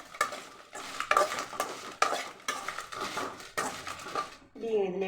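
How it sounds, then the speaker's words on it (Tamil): Chillies and tamarind fried together in a pan, a spoon scraping and stirring in repeated bursts over a soft sizzle, close and fairly loud, with no talk during the stirring. "எப்பவுமே மிளகா லாஸ்ட்டில் வதக்குங்க. புளியும் இதோடு சேர்த்து வதக்கும்."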